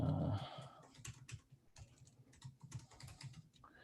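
Fingers typing on a computer keyboard, a quick irregular run of soft clicks and taps, close and fairly quiet, with no voice over it.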